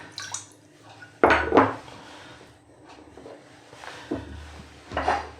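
Lard going into a metal pan for pie pastry, a few sharp clanks and knocks of the pan and utensil, spaced apart with quiet gaps between them.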